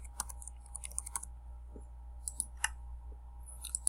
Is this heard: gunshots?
no